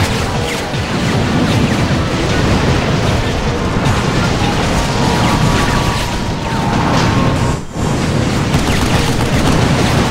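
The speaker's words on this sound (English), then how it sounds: "it just blew up like a dozen guys with that one grenade" Grenade blasts in the shooter Vanquish, with loud, sustained explosive roaring and crashing debris filling the mix, then a brief dip before the din resumes.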